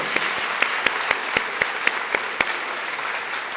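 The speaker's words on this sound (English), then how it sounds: "let's give a round of applause to all of you." Sparse, scattered clapping from a small audience at a college convocation, distinct individual claps in a loose rhythm that thin out and fade toward the end.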